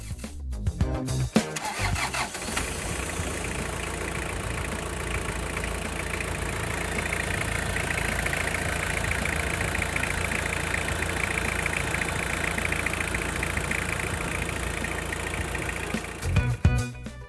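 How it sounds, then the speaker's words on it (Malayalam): Hindustan Ambassador fitted with a Toyota 2C diesel engine cranks briefly, catches and settles into a steady, even diesel idle close by, holding for many seconds before a few small clunks at the end. "നമുക്ക് വാഹനം സ്റ്റാർട്ട് ചെയ്യാം."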